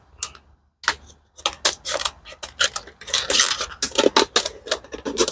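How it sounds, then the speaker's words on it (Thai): Scissors cut a slit in a container being made into a garden squirrel deterrent, giving a rapid series of crisp, close snipping clicks with short pauses between them. "ต่อไปก็ใช้กรรไกรตัดช่องที่เรากรีดไว้"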